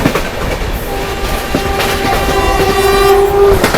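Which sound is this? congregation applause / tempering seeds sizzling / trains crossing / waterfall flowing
trains crossing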